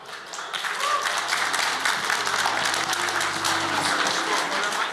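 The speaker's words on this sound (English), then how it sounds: "Please give a big round of applause for my fellow co-founders" Sustained applause from a crowd at the ZIGChain Summit in Dubai, honoring the co-founders Bart and David, dense and steady clapping filling the room from start to finish with no voices rising above it.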